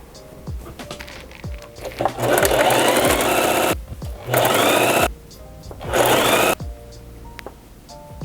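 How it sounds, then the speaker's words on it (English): A sewing machine stitches a T-shirt in three steady bursts of whirring, separated by pauses with faint handling clicks and thumps. "So I'm just gonna be taking this to the sewing machine and we'll be doing that."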